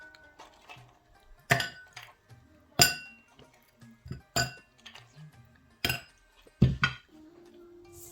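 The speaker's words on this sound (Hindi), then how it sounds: "अब इसमें ऐड करेंगे आइस क्यूब्स।" Ice cubes clink one by one into a glass holding chia seeds for a custard drink, several sharp bright knocks spaced about a second apart in a quiet kitchen.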